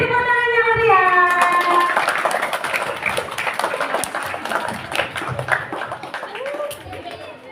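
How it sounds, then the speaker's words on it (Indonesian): Applause and clapping from a school audience at an Islamic elementary school children's preaching performance, greeting a second-grade student; dense clapping with chatter, tapering off toward the end, with some children's voices heard. "Beri tepuk tangan yang meriah"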